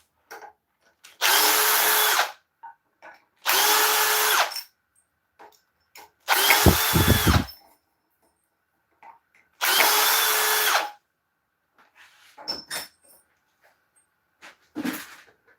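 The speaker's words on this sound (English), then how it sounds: "A drill driver." A cordless drill driver in a woodworking shop whirs in four separate bursts of about a second each, loud and close, with clicks, knocks and handling noises in the gaps between runs.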